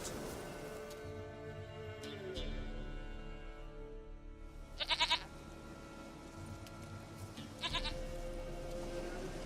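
A goat bleats in The Witcher 3 video game, giving two short, tremulous, close bleats a few seconds apart over a layered music and ambient game backdrop.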